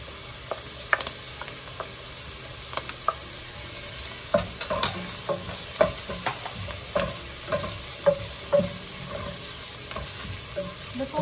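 Garlic frying in a pan for kare kare: a quiet, crackling sizzle with scattered sharp pops and a few light scrapes of stirring, with no talking.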